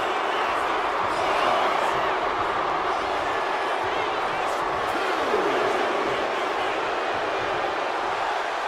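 Arena crowd in the wrestling video game WWE 2K25, a dense, steady roar of cheering fans filling the whole stretch at constant loudness, with occasional swells.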